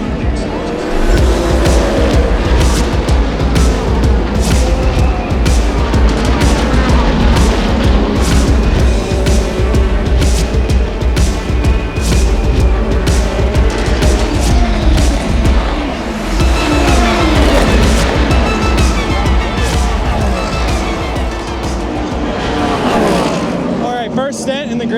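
Race cars roar around the Daytona track, heard from the grandstands, with a continuous loud engine din, repeated pass-bys and tire squeal, and voices faintly underneath.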